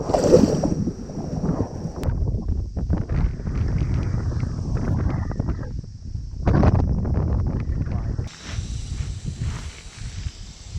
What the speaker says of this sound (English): Very windy conditions today.